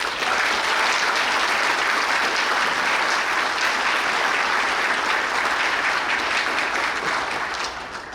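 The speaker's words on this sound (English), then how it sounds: "Please give a loud round of applause to this year's runner-up," Loud, sustained applause from a large audience greeting the Ivy Day male runner-up, a dense steady roar of clapping holding for the full span before easing slightly at the very end.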